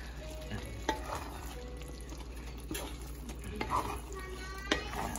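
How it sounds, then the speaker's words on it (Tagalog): Spicy laing, taro leaves simmering in coconut milk, stirred in a pot with a spoon, giving scraping, clinking strokes at a regular pace over a soft bubbling sizzle, close up and with no talking. "Haluin natin mabuti guys para maluto yung ilalim."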